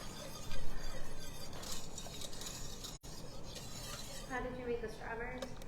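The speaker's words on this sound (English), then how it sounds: "Watching somebody whisk." A whisk beating homemade pudding in a bowl gives a steady scraping, clinking churn that runs continuously and stays moderately loud, with one brief dropout midway.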